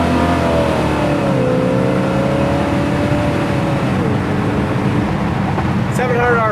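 A 1957 Chevy with a choppy-idling cam and a 700R4 transmission pulls steadily under acceleration, a continuous mid-pitched engine drone rising and easing as it drives, close and loud, with a voice briefly speaking near the end.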